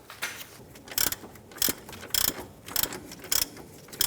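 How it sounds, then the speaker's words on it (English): A ratchet tightening the horizontal engine mount bolt on a 1997-2006 Jeep Wrangler, heard up close as about six short bursts of rapid metallic clicking separated by brief pauses, with no speech. "we can now tighten down the horizontal bolt."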